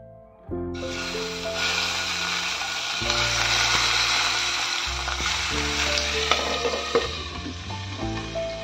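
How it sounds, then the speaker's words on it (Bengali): Small puti fish fry in mustard oil with a steady loud sizzle close by, continuous throughout, over soft background music. "মাছগুলো ভাজা করে নেব"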